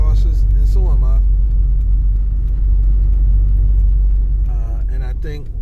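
A Mercedes-Benz car drives along snowy Interstate 70 during a winter storm, giving a steady, loud low road rumble and engine drone from inside the cabin, with a voice talking over it at the start and end.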